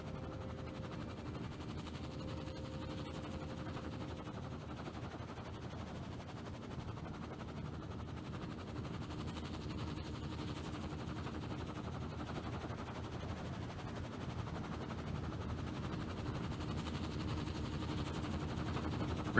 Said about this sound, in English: Oh, I guess there is a helicopter.